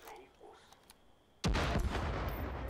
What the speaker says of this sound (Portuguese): Nossa, que tiro foi esse?